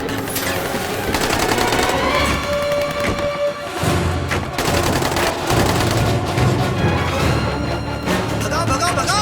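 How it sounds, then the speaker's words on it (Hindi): Rapid gunfire erupts in an action-movie jailbreak car chase, with bursts of automatic shots and thuds layered over loud music and engine rumble, while voices shout over the dense, continuous mix. "संभाल के गोली चलाओ।"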